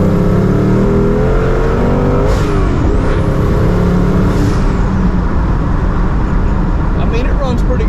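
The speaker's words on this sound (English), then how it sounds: "Turbos sound pretty good." A twin-turbo kit fitted to a California Special car keeps the engine running loudly, with rising revs and a constant nearby rumble while a person talks over it.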